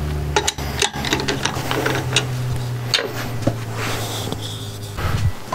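A walnut cube has one edge chamfered under a steady mechanical drone, with rasping, scraping bursts from the cut running throughout, close and fairly loud.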